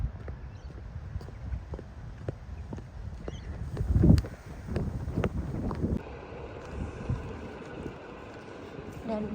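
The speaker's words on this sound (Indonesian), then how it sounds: "Anginnya sepoi-sepoi" Wind buffets an outdoor microphone on a walk to a Kmart in Australia, a steady low rumble with gusty swells, under occasional voices and scattered footstep-like knocks.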